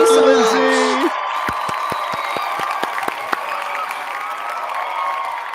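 A studio audience claps for a performer on a live show. The applause starts at a moderate level and a few sharp individual hand claps stand out under a bright musical tone fading at the start.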